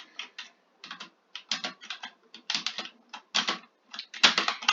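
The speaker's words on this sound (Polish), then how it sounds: "Trochę mam głośną klawiaturę." Fast clattering keystrokes on a loud computer keyboard, typed in uneven bursts with short pauses between, close and crisp, no voices.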